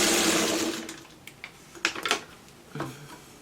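A sewing machine finishing the last seam of a quilt block, a quiet whirring run for about a second that fades, followed by a few soft clicks and handling sounds.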